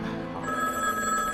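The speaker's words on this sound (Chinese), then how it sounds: "爸爸，我去接电话。" A telephone bell rings indoors in a home, a steady, fairly faint ring with sustained high tones and no talking over it.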